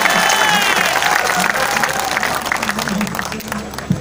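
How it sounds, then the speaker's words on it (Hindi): Loud applause and cheering from a crowd at a Hindi poetry recital, dense clapping under a steady crowd roar throughout, with a voice breaking in near the end. "एक बार जोरदार तालियां बजा दीजिए।"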